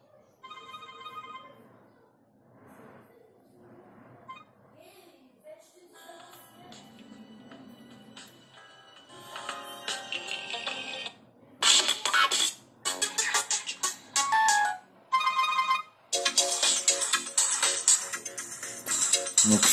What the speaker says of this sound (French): on va écouter le son cette fois-ci de la sonnerie